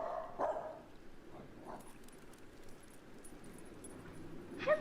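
A dog barks a few times at a distance, short faint yaps spaced out with quiet gaps between them, the last bark a bit louder near the end.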